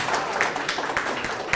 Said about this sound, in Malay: Macam tepuk tangan sikit.